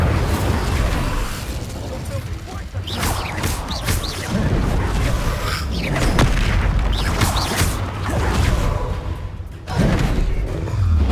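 Fiery spell blasts and bursts during combat in the wizarding game Hogwarts Legacy, loud booms and crackles layered over a busy battle mix with a voice calling out spells.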